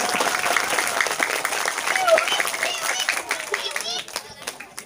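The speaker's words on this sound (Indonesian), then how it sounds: "Tepuk tangan untuk adik-adik semua ya." A group of primary-school children on a study tour at a batik village applauds in a continuous, fairly loud patter, with voices and chatter mixed throughout.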